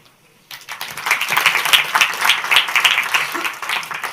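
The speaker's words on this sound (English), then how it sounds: "give a warm round of applause to Samuel Colvin" Conference audience in a PyCon Portugal auditorium breaks into applause welcoming a speaker, rising abruptly after a brief near-silence into sustained, fairly dense clapping that continues to the end.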